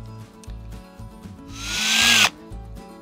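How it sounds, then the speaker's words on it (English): A power drill whines at rising pitch as it bores a sap tap hole at a slight upward angle into a tree, revving up for about a second before cutting off sharply, with a low rhythmic hum beneath. "As I place the end of the drill bit on the tree, I want to ensure that when I drill at a slight upward angle"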